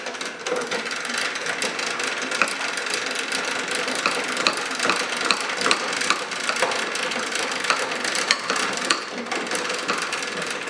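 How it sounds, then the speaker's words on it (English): A crank turned to lower the cutter head of a new Ridgid R4331 thickness planer gives a continuous close ratcheting clatter of gears and pawl, steady and fairly loud throughout with no voices. "So if we try to lower the cutter head"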